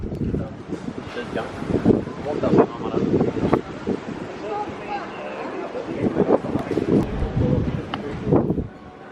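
Gusty wind buffets a microphone outdoors on narrow streets on the Greek island of Milos on a cold, windy day, a constant rough rumble under a person talking throughout.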